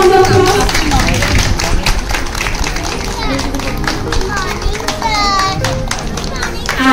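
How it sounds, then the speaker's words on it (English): Audience applause at an inauguration ceremony: a crowd claps in a dense, continuous patter while children's voices and chatter mix in throughout. "Give him a huge round of applause."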